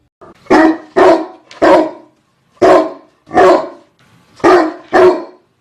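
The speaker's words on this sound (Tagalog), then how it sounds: "Sigaw ng asong bantay ng bahay." A house guard dog barks loudly and nearby, seven sharp barks in small bursts of two or three with short pauses.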